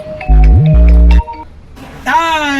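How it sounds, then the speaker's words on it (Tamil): A phone rings inside the game GTA, loud stepped electronic ring tones in two bursts, followed by a harmonic voice-like tone. "ஓகே ஆமாம் யாரோ ஃபோன் வருது"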